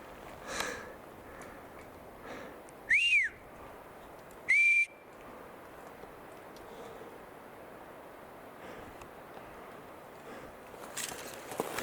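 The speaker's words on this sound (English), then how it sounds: "That was a whistle. Did you hear the whistle?" Deer whistle in the woods: two short, high, clear whistles a couple of seconds apart, each loud against the quiet outdoor background, with faint rustling around them.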